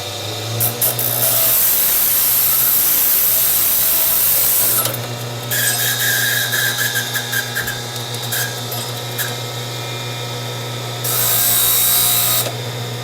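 A power tool cuts through a new NS 850 golf club shaft in loud, close grinding bursts, with a long first pass, a choppy middle stretch and another burst at the end.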